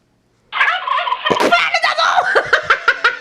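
A turkey gobbles loudly and close, a rapid rattling burst of warbling calls that begins abruptly after a short silence and carries on for several seconds.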